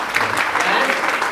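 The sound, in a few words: audience applause on a TV show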